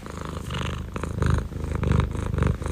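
Close, soft cat purring rolls in an even rhythm of breaths, a low rumble that swells and eases about every half second, with no voices over it.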